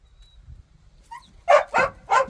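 Three sharp dog barks in quick succession, close by, after a quiet stretch with faint rustling.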